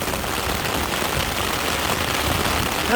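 Heavy rain pours down at a fishing spot, a dense, steady hiss of drops hitting surfaces, loud and close with no pauses.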